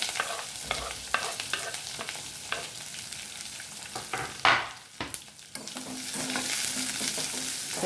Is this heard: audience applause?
no